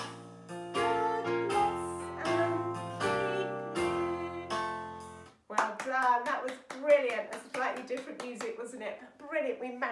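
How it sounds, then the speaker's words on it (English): Hands clap after a birthday song played on keyboard-like music; once the music stops, quick sharp claps sound under a man's speech. "Let's give you a big, big, big round of applause if it's been your birthday this week."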